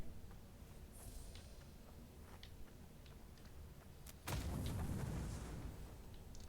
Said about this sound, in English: Probably didn't need to waste a grenade on that.